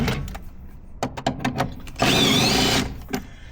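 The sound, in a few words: impact gun zipping off suspension bolts, VW MK4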